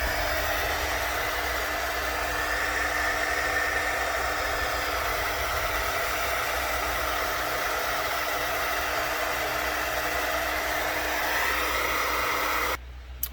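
A handheld dryer blows in a continuous, loud, steady whoosh with a motor hum for several seconds while drying craft paint, then switches off abruptly at the end.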